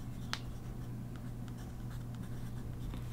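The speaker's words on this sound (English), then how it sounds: "I'll just write color text." Pen strokes scratching across paper during a watercolor art session, light and steady under a constant low hum, with one sharper scratch near the start.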